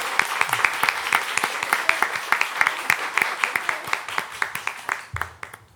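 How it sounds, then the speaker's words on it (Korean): A church congregation applauds during a Sunday worship service, a steady patter of many hands clapping close by for several seconds before tapering off, with a low murmur underneath. "우리 따뜻한 박수로 한번 박수를 드리도록 하겠습니다"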